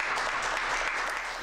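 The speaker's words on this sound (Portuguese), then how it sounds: "Grande palmas, palmas para vocês." An audience at a conference of the Portuguese association ACAPO applauds, with dense steady clapping throughout and no voices over it.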